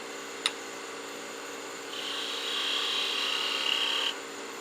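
A woodturning tool cuts a V groove into a spinning wood ornament on a lathe, a quiet tap followed by a steady hissing, scraping cut lasting about two seconds before stopping.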